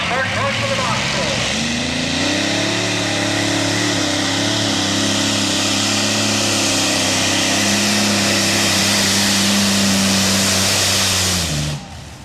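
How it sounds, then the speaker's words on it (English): A pulling tractor powered by Allison aircraft engines roars down the track, a loud sustained thunderous drone that holds steady for most of the run before cutting off abruptly, with an announcer talking over it. "When you start looking at Allison aircraft engines and listen to these thunders when they come down the track"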